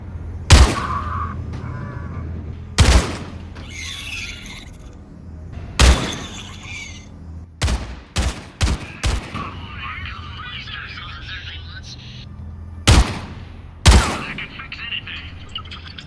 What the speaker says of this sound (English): if you shoot them they make the sound from StarCraft